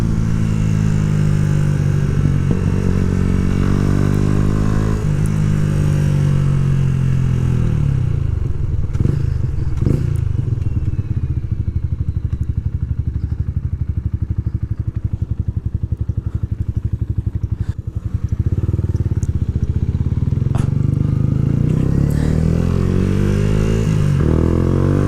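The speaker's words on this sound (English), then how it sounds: "This bike rides completely different" A Yamaha YZF R125 motorcycle is ridden with a loud, close engine note that rises and falls through repeated revs and gear changes, a brief clatter cutting in midway.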